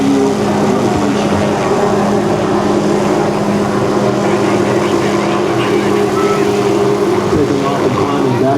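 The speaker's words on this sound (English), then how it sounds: "Taking off and climbing backwards." A Hughes 500 helicopter takes off and climbs backwards at an air show demonstration, a loud continuous rotor and turbine drone that stays steady throughout.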